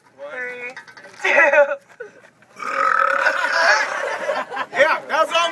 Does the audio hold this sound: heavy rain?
no